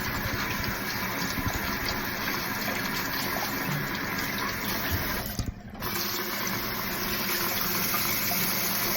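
Hot tap water gushes steadily from a faucet, rinsing a silicone sonic facial cleansing brush, a continuous close splashing rush with a brief dip in the flow midway.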